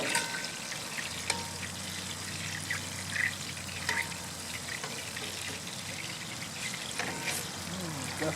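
Loose ranch meatballs fry in a pan on a backyard barbecue grill, crackling and sizzling steadily with scattered pops, while a voice talks faintly in the background.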